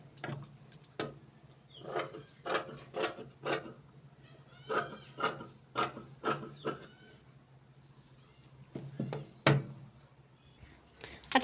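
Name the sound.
cutting blouse fabric with scissors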